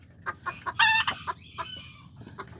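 A newly acquired Azteca rooster and hens cluck in quick, close bursts, broken by one loud, brief crow partway through, then more scattered clucks.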